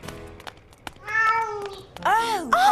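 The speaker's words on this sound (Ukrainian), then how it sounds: "Я відчуваю, що десь тут неподалік є кіт, але я його не бачу." A cat meows several times in rising and falling cries, close and clear, the last calls louder and longer, with a few light clicks in between.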